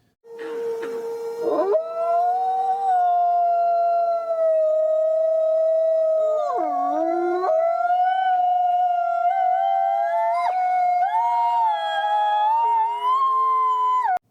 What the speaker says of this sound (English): It sounds like a pack of wolves.